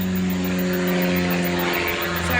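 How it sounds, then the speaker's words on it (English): Small propeller hobby plane flying near a local airport, a steady droning engine hum with a low harmonic whine, loud and continuous without any talking. "where people with too much money and time on their hands fly planes as a hobby"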